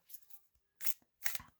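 Glossy, fairly thin-stock Light Seers tarot cards shuffled by hand in a few quick riffling bursts, soft and close, each a short papery flutter with brief pauses between.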